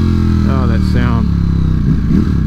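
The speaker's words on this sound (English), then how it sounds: "Any V4 sound really, man, they sound so good." Ducati Streetfighter V4 motorcycle engine revving twice in quick rising bursts, then settling into a loud close rumble, heard alone without talk.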